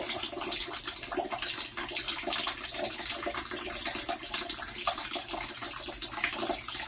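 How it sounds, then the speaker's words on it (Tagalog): Weak trickle of water running from a tap into a container, a thin steady hiss and patter that carries on unbroken at close range with no talking. "Tingnan mo anong oras pa tayo nakapuno ng tubig. Ang hina ng tulo."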